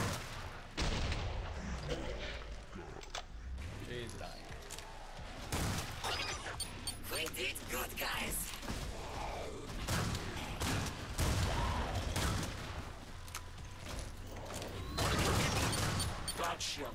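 Dense, repeated gunfire in the zombie shooter Killing Floor 2, loud sharp shots in rapid clusters across the whole stretch alongside impacts and creature noises, with a player talking over the action.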